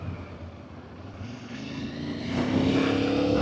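A Moto Morini motorcycle engine builds revs as the bike pulls away, a steady mechanical drone that swells louder toward the end with a rising whine, heard close with no voices.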